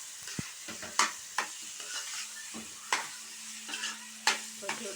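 Onion kurma sizzling in a pan while being stirred, close and quiet, with a soft continuous fry under about eight sharp scrapes and knocks of a spoon at irregular intervals.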